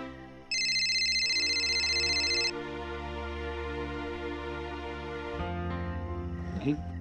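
A phone rings in a household scene of a Marathi TV serial, a bright repeating electronic tone for about two seconds over background music, followed by people talking.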